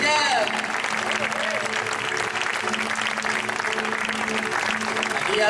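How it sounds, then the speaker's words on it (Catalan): Steady applause from an audience at a concert by a Catalan music band, loud and continuous throughout with a sustained musical tone underneath. "Un aplaudiment ben fort"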